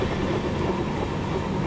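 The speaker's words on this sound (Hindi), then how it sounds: "जस्ट बगल में ये देखो आ गई नंदन कानन एक्सप्रेस" The Nandan Kanan Express running on a parallel track alongside a moving train, a loud, continuous rumble of wheels and carriages with steady rail clatter close by.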